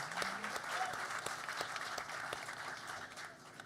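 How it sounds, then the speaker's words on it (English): Audience of the Indian diaspora applauding at an event with India's External Affairs Minister S. Jaishankar, a dense, faint round of clapping heard from a distance that holds steady and then tapers off. "So, no, that's something to applaud."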